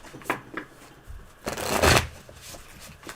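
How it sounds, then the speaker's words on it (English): Tarot cards being shuffled by hand in a few short riffling bursts, with one longer, louder riffle near the middle; close and fairly quiet, with no talking. "you can hand me that deck and I'll shuffle"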